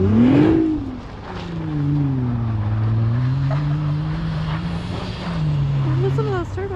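A 2021 Nissan GT-R's turbocharged engine revs and drones loudly, its pitch rising and falling as it pulls past, with voices talking over the engine noise.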